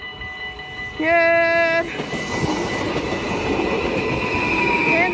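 An Arriva passenger train passes close by at a station in Susteren, starting with a loud, steady two-tone horn blast, then a continuous roar of wheels and carriages that holds strong to the end, with a brief spoken word near the start.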